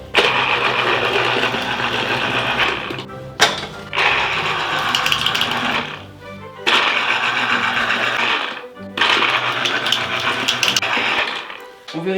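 An electric juicer whirs loudly as halved oranges are pressed, running in steady motorized bursts that stop briefly between each press, close and continuous.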